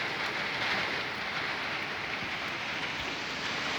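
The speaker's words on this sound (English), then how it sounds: "Seriously, it's raining again." Steady rain falls outdoors, a soft, even hiss of drops that stays constant and fairly faint throughout, with no voices.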